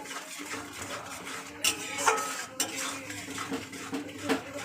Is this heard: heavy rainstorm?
no